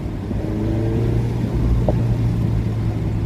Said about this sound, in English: You can maybe hear the exhaust now.